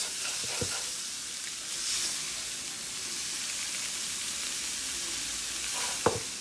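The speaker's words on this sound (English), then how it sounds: "mix until the sausage, sweet peppers, and onions are coated" Sausage, sweet peppers and onions are stirred in a skillet, giving a steady, moderate frying sizzle throughout, with a couple of sharp utensil scrapes against the pan near the start and end.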